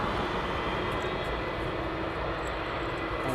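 An aircraft at East Midlands Airport gives a steady, broad engine roar that stays at a constant level from start to finish, with no voices.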